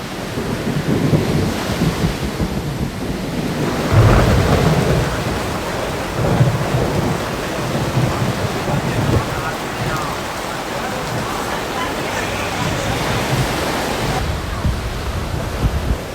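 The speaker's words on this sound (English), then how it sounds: "Despite the rain and impending thunderstorm, we head out to the town square for dinner" Heavy rain pours steadily over an outdoor dining spot in a town square in Stresa, Italy, with low rumbles of thunder rolling through the downpour, a loud burst near the start and a steady wash throughout.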